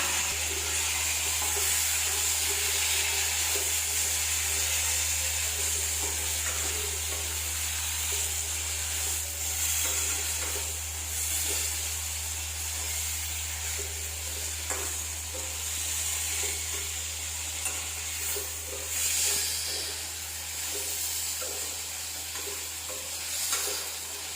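Dried red chillies and a tomato sauté in a pan for a panna keerai kadaiyal, giving a steady, close sizzle and hiss with occasional stirring scrapes and no talking.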